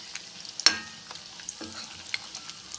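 Potato bonda frying in hot oil, a soft continuous sizzle with occasional sharp spatters and utensil clicks as the fritters are turned, close and without talk.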